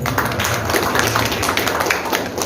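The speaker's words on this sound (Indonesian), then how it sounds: "Tepuk tangan untuk sekolah kita ya" Audience at a school gathering in Indonesia applauding their school, a dense, steady wash of many hands clapping close by with a faint murmur of voices under it.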